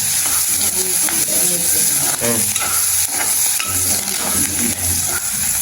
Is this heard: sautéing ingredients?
yes